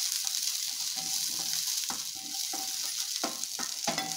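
Small onions and dried red chillies sizzle steadily in a hot pan for peanut-onion chutney, with the spatula scraping and stirring in a few sharp strokes.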